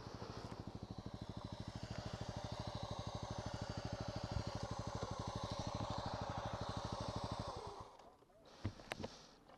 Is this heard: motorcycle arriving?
yes